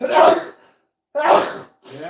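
A single loud sneeze bursts out close to the microphone, followed by a second sharp exhale-like burst and then a short spoken word, all within a couple of seconds.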